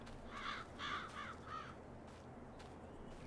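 A crow caws four times in quick succession within Farming Simulator 22, the harsh calls faint and slightly distant, followed by quiet ambient game background.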